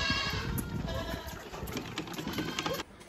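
Baby goats bleat at feeding time on a Florida truck-camping trip, the calls close, loud and nearly continuous, with no talk over them.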